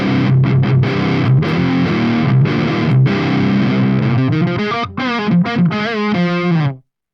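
Distorted high-gain electric guitar runs through a Revalver PV6505 amp simulation on default settings, playing chugging chords and quick riffs with a fizzy, buzzy edge and brief gaps before cutting off near the end.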